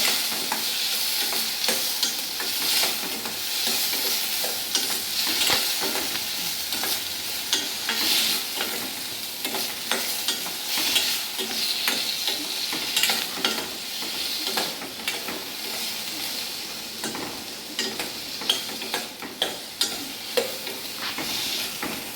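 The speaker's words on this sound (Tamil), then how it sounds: "வெங்காய தக்காளி வந்து நல்லா வதக்கணுங்க." Onion and tomato sautéing in a pan for egg kothu parotta, a continuous sizzle broken by frequent scraping and tapping as a spatula stirs, steady and close.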